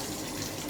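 Tap water runs steadily into a kitchen sink as hands are rinsed, a brief, even rush of splashing flow with no voices.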